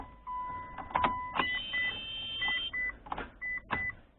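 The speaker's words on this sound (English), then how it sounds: "it's when I try to start my damn car, my Mitsubishi Evolution" A Mitsubishi Evolution IX fails to start, its ignition producing repeated short electronic beeps and whirring pulses in bursts, close and moderately loud, with no voices.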